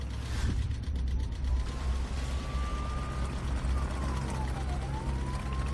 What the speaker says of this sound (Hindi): हमें पुलिस सायरन बहुत दूर से आता सुनाई दे रहा था।